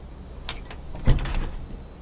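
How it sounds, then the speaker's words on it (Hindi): An indoor door opens with a short latch click, then a louder clunk and a brief rattling slide, close and quiet with no talk. "खोल दरवाजा।"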